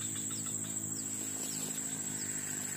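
Crickets kept as fishing bait chirping faintly in quick, steady trills outdoors, soft and continuous with no voices over them.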